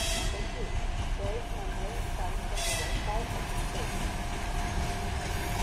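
ChS4-109 electric locomotive hauling the Obereg night express from Kharkiv to Kyiv, a continuous moderately loud rumble of a passing train with a person talking over it.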